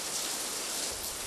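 Steady rain falling outdoors by a palace in a Nigerian folktale drama, a faint, even hiss of drops that continues without pause, heard alone with no speech.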